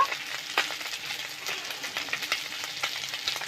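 Whole cumin seeds crackle and sizzle as they drop into hot cooking oil, with a steady frying hiss and scattered sharp pops running throughout.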